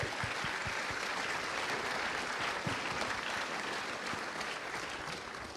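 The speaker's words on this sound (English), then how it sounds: "Give him a big round of applause." Lecture audience giving a round of applause, a dense, steady crowd clapping that stays loud and even from start to finish with some sharper nearby claps, no voices over it.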